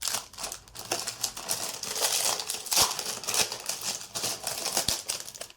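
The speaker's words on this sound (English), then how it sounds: "To attach the battery to the board, I used the thinnest double-sided tape." Thin double-sided tape being handled while replacing a smartwatch battery, heard as close, continuous crinkling and crackling with small sharp ticks and brief tearing bursts, fairly loud and busy throughout.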